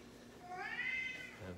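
A single rising and falling cat meow, fairly close and clear, lasting about a second.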